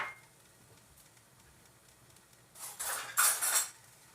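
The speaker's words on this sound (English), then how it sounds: "Stir that in together." A spoon stirs fresh thyme, oregano and basil into homemade chili with bell pepper in a pot, giving a few soft metallic scrapes and clinks that come up near the end after a quiet stretch.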